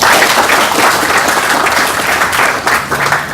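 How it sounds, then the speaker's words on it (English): A crowd at a contact center opening applauds steadily, dense clapping filling the space at a fairly loud, even level from start to finish. "Please give them a round of applause."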